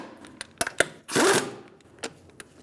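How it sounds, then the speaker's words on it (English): Lug nuts on a Nissan Altima are tightened with a 21mm socket, producing quick ratchet clicks and taps followed by a short burst of whirring or spinning, close and moderately loud. "We're going to tighten up the lug nuts with a 21mm socket and a star-like pattern."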